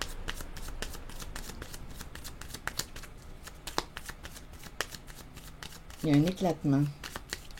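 A deck of tarot cards is shuffled in quick, steady riffles of papery clicks near the listener, and a voice speaks briefly near the end.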